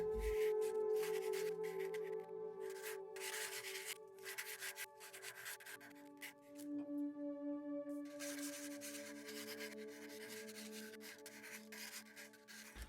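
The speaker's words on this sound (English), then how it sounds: "As I work through sanding this lure, I change the grit." Steady rubbing strokes of sandpaper against a wooden crankbait fishing lure, close and continuous with repeated back-and-forth passes and short pauses between bursts, some strokes brighter and harsher than others as the grit changes.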